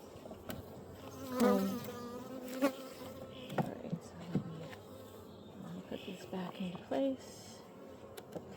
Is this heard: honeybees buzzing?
yes